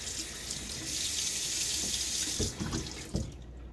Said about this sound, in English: Finally got that hot water coming up